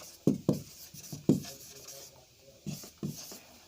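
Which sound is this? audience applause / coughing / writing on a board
writing on a board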